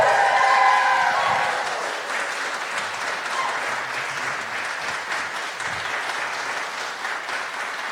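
An audience applauds the Adam Ezra Group at a stable venue, loud steady clapping at first that eases slightly and carries on evenly to the end, with no talk over it.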